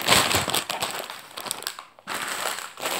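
A plastic Lego parts bag torn open by hand, a close, loud run of crinkling and ripping plastic that pauses briefly near the end and then resumes.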